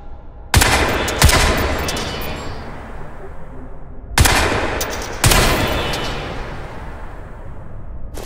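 A weapon in Crysis 3 fires loud bursts of rapid gunfire, three separate volleys with booming onsets and long reverberant tails, and no talking.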